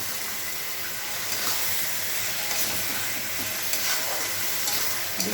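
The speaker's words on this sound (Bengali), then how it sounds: "এটাকে ভালো করে নেড়ে চেড়ে মশলাটাকে কষিয়ে পরে মাংসটা ছেড়ে দেবো" Ginger, garlic, cumin and chilli pastes frying in a pan for a Bengali-style chicken dish, a steady close sizzle with soft stirring scrapes throughout.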